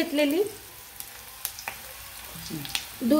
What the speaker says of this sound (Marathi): आता आपला कांदा भाजत आलाय